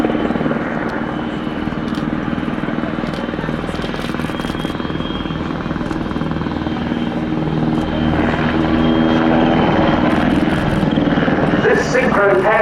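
A helicopter flying in a synchro pair display at the RIAT 2025 airshow, its loud, constant rotor throb and engine roar filling the clip, with a voice talking underneath.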